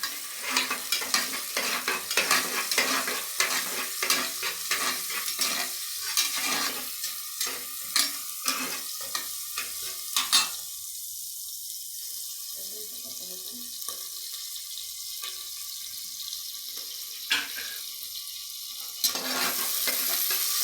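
Green chillies with crushed ginger and garlic sizzle and fry in a pan, a steady close hiss with stirring scrapes and clatter, no talk.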